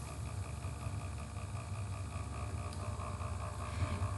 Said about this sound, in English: if you hear like a spinning noise in the background, my laptop fan is dying again